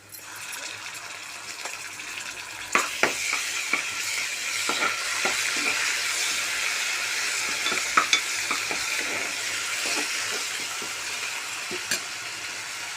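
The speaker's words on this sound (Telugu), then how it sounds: "బాగా బ్రౌనిష్ కలర్ వచ్చే వరకు వేయించుకుందాము" Ginger garlic paste sizzles and fries in a pan for masala pappu, a steady loud sizzle broken by sharp clicks and scrapes of stirring, close up, with no talking.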